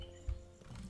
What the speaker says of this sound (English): I tamed a horse?